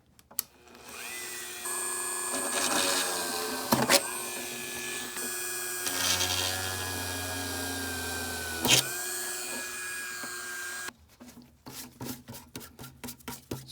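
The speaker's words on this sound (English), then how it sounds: "we can drill the crack out" A small drill with a 5/64-inch bit whines in several short runs, its pitch shifting as it bites into a cracked plastic wheel cover from a 2003 Toyota Echo, ending with a few light clicks and taps.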